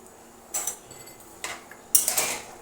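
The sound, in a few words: stirring oil-free potato fry with salt and cumin in pan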